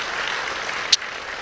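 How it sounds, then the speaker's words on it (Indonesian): Church congregation applauding together, a steady wash of many hands clapping, even and sustained with one brief sharper clap near the end, no talking over it. "Berikan tepuk tangan kita untuk Tuhan kita."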